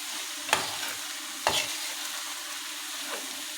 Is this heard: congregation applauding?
no